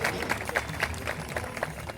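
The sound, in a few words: crowd applause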